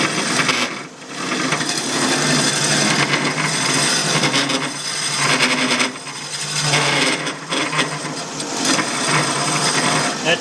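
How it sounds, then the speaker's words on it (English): Lathe tool rest rattling during deep hollowing of wood, a loud continuous rough scraping and buzzing chatter that runs nearly unbroken with brief dips, close and harsh. "That's the tool rest you hear rattling."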